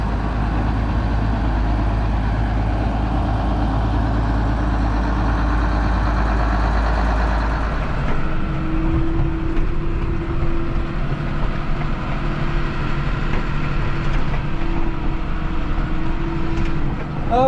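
A TG210 tractor engine runs with a deep steady rumble, then shifts after a few seconds to a lighter hum with a faint whine, continuous throughout and heard up close.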